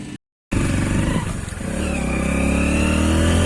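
A motorcycle engine starts up after a brief silence and runs steadily as the bike rides off, a loud and close drone that rises a little and then holds through the rest of the moment.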